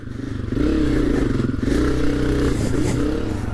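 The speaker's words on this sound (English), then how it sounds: "Let's try this hill climb. It revs up nice, but then also it'll lug really easily." A 2022 Honda CRF250F dirt bike engine revs up on a hill climb, its note rising and falling in a few loud, close pulls with clattering mechanical texture.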